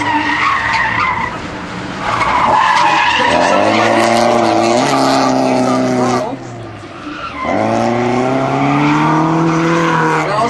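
A drift car goes sideways on a track during a NOPI drift qualifier run, with loud sustained tire squeal and skidding over a roaring, revving engine that dips briefly before screeching again.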